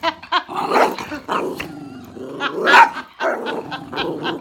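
Several dogs scuffle in a fight, with loud close growls and snarls broken by sharp barks and yips in uneven bursts.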